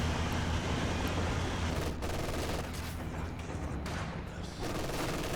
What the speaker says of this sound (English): that MG42 in the right side VP house is giving these two Grens so much trouble